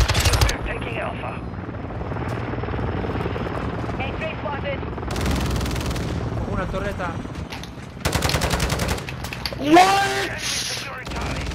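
Video game gunfire crackles in rapid bursts and scattered shots over a droning, helicopter-like rumble, with players' voices talking throughout.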